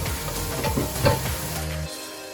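Spices and onions sizzle steadily in a pan while cooking for an Ilish fish curry, with stirring scrapes, and the sizzle drops quieter near the end.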